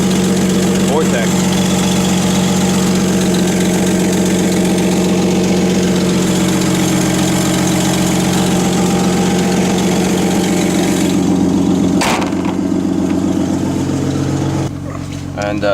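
Chevrolet 4.2 liter straight-six Vortec with about 117,000 miles idling after a cold start, a loud, steady low rumble with a faint ticking rhythm, close by, with a sharp knock near the end.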